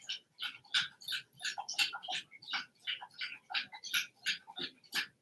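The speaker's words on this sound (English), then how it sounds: "If you hear her in the background, it's her drinking water." A dog lapping water from a bowl indoors, a quick rhythmic series of wet slurps and taps, about twelve evenly spaced laps, faint but clear with no voices.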